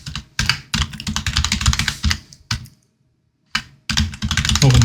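Computer keyboard keys tapped in quick clusters for a Ctrl+P shortcut, close and crisp, bursts of clicking broken by a short silent gap, with no talk.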